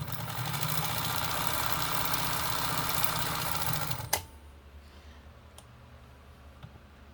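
A New Home Smurf Blue sewing machine runs with a steady loud mechanical whir for about four seconds, then stops abruptly with a click, leaving faint ticks and near silence.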